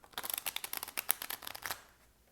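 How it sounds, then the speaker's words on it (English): A deck of cards is riffle-shuffled for a tarot-style reading, a quick burst of crisp, close flutters and clicks lasting about two seconds before fading out. "That was a horrible shuffle."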